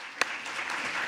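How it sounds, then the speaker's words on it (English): Faint, thin applause from a conference audience, with one sharp clap standing out near the start before softer scattered clapping continues at a distance. "Please give them a round of applause with me."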